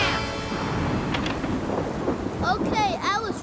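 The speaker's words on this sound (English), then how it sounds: "I was wrong about the storm" Thunderstorm in a Backyardigans cartoon at sea, a loud rumbling roll of thunder over steady rain, followed by squeaky, chattering cartoon voice sounds near the end.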